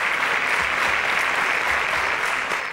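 A studio audience at a quiz show applauds contestants with dense, even clapping that holds steady and loud from start to finish, fading slightly at the end.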